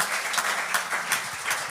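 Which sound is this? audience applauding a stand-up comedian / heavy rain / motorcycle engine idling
audience applauding a stand-up comedian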